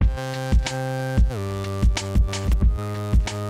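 Default groove preset number 731 from the DRM Groove plugin, a looping drum beat with punchy kick and snare hits repeating in a steady rhythm over a sustained tonal bed.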